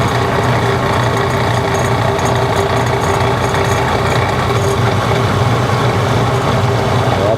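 A wood lathe spins a tall lidded chalice blank at around 1700 RPM, giving a steady, loud mechanical hum and drone that holds unbroken throughout, with no voices.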